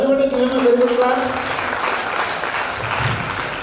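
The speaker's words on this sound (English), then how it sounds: "Everybody give him a very good clap." An audience at a career guidance session in a function hall breaks into brief, lively clapping, starting over a voice and then continuing alone for a few seconds.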